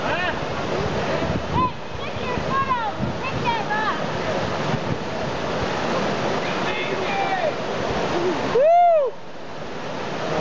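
River rapids rush loudly around a canoe in a continuous broadband roar of churning water, with people talking and shouting close by over the torrent.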